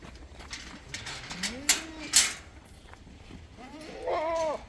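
Goats in a breeding farm shed bleat twice, in drawn-out wavering calls over a noisy background with a few sharp knocks.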